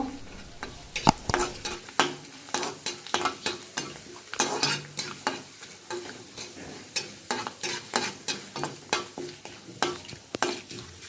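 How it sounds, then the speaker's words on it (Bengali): Panch phoron five-spice seeds fry in a little oil in a pan while being stirred, with a steady near sizzle under repeated scraping strokes of a spoon against the pan, no talk. "অল্প 5 ফোড়ন। এবার এটাকে নেড়ে নেব।"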